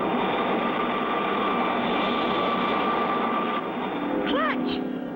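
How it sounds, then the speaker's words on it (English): Cartoon third-stage rocket engines fire with a steady, dense roar that holds for several seconds, loud and close, joined near the end by brief rising and falling tonal sweeps. "The second the third stage rockets light up."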